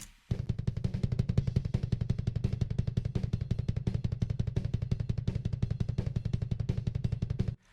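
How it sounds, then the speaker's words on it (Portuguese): Rapid, evenly spaced kick drum hits from a single kick drum with a double pedal roll nonstop in a fast power metal stream, punchy and close for several seconds. "isso aqui é um pedal duplo, né? Não são dois bumbos tocando, é um pedal duplo mesmo"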